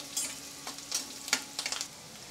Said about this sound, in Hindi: थोड़ा सा मिर्ची और प्याज को भी साथ में हम फ्राई कर लेते हैं